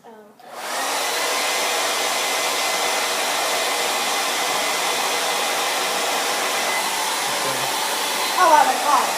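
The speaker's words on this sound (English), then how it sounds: "you'll just hold the hair dryer on there for a couple seconds" A hair dryer heating the label of a video game cartridge, switching on abruptly and then running as a loud, steady whooshing roar for several seconds, with a faint voice near the end.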